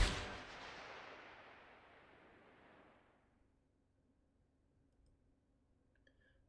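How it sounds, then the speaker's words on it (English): A single video-game gunshot cracks loudly at the start and then fades away in a long, rolling decay into near silence. "I hear a gunshot from behind us."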